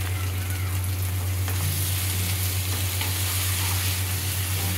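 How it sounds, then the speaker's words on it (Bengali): Potatoes fry in spices in a pan, giving a loud, continuous crackling sizzle over a steady low hum, with faint stirring clinks and no voices. "এই দেখুন আলু দিচ্ছি, প্রথমে আলু দিচ্ছি"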